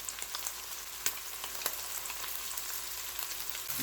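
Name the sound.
onion, garlic and pepper frying in a pan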